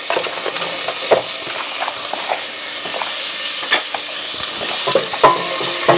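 Cut-up smoked sausage sizzles in olive oil in a small pot over medium-low heat, a loud, close, steady hiss broken by sharp clicks and scrapes of stirring.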